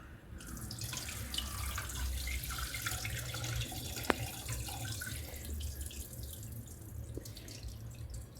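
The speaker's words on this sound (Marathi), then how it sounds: "हे पाणी ओतून देऊ हा हळूहळू ओतायचं" Water poured slowly off soaked bajra dough in a kitchen, a steady trickling splash running throughout with a brief drip-like accent near the middle, no talking.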